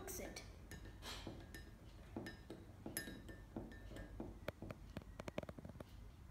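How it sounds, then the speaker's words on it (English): A spoon clinks and scrapes against a glass in quick, irregular taps while stirring instant coffee powder into hot boiling water, close and fairly faint, with soft room noise around it. "let's mix some instant coffee powder with the hot boiling water"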